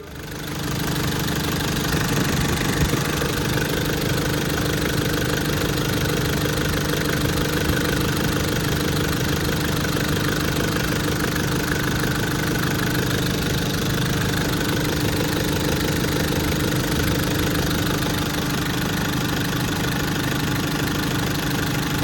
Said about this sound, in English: So we run our engine up.